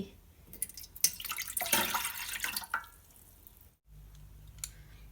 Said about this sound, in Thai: แรกสุดนะคะเราต้องใส่น้ำน้ำหนึ่งถ้วยตวงกับ อีกสองเทเบิลสปูน ค่ะ